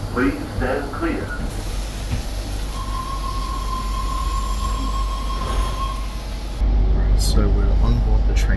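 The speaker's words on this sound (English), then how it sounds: "this is a Tangara T-set train" Sydney Tangara T-set train running on the T4 Eastern Suburbs line near Bondi Junction, a steady close rumble with a thin wheel squeal and a louder surge near the end, under occasional voices.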